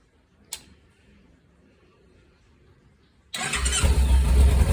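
Kawasaki motorcycle with a faulty relay box being started: a faint tick, a quiet pause, then the engine abruptly catches and runs loudly, a close, rough idle filling the last second and a half.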